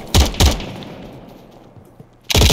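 Gunfire in a first-person shooter match: two sharp loud bursts close together at the start, a quiet stretch with a faint thud, then another heavy burst at the end.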